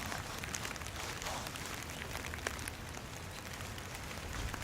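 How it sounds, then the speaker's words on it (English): Rain falling steadily on raised garden beds outdoors, a soft continuous patter with scattered sharper drops, fairly quiet and even throughout, with no voices. "It's raining today, so I'm not going to water it in."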